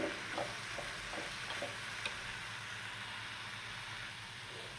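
Banana flower cooks in a pan over a low flame, a steady soft sizzle and hiss with a few light scraping stirs near the start, continuous and fairly quiet with no talk.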